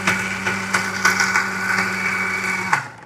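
A mixer grinder whirs steadily and loudly nearby as it grinds homemade dog and cat food, its motor running continuously before winding down at the end.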